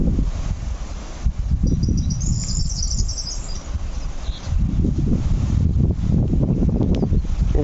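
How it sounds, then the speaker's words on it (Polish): Loud, blustery wind roars and buffets the microphone in surging gusts, with a faint bird chirping high in the background. "u nas dzisiaj wieje bardzo mocno"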